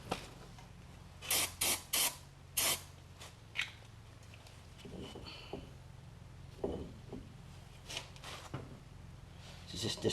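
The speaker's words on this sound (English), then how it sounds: "Clean them off with a brake cleaner." Brake cleaner hisses from an aerosol can onto the front brakes of a 2000 Buick LeSabre in a quick series of short, sharp spray bursts, followed by quieter scattered sprays and faint handling noises.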